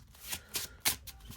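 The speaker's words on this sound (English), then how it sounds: "And now we'll shuffle all these back together." Deck of Marvel Champions cards shuffled by hand on a tabletop, a few quick riffling bursts close by within a second or so, fairly soft.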